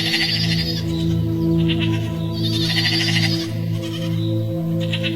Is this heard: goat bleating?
yes